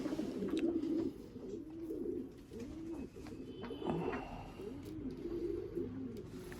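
High-flyer pigeons coo repeatedly in a loft, soft rolling calls overlapping at close range over a faint background murmur.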